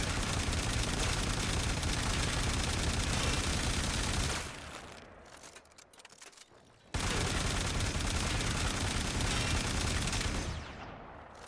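Boltor Prime firing in the shooter game Warframe: a dense, continuous burst of rapid gunfire, a brief lull of quieter effects, then another sustained loud volley.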